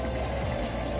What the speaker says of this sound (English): So that water noise in the drain should be quieted down.